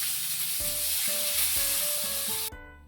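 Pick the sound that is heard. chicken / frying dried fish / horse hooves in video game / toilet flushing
frying dried fish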